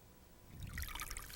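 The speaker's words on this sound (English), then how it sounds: "just going to squeeze the water out of it." Water trickling and dripping from a wet handwoven fabric squeezed by hand outdoors, a faint patter that builds in the second half and runs briefly with no talk.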